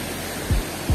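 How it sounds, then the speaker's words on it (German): The Khlong Lan waterfall roars as a constant, rushing wash of noise. Two dull, low thumps break through near the end. "Weil das Wasserfall hier laut ist"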